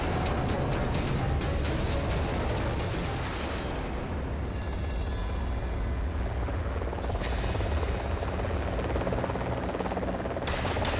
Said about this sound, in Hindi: हेलीकॉप्टर भी आ गया।